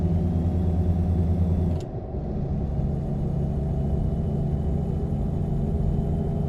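Volvo truck engine brake in American Truck Simulator, a loud steady droning rumble that cuts off abruptly after about two seconds and settles into a lower, continuous engine hum.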